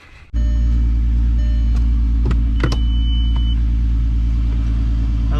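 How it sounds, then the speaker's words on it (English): A VR6 car engine starts and settles into a loud, steady low rumble that keeps running, with a couple of brief clicks early on. "I love the sound of this car."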